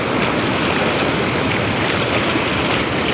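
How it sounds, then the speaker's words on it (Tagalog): Big sea waves crash and roll continuously from a fishing boat, a loud, dense wash of surf and churning water filling the whole moment, with no voices. "Laki ng alon."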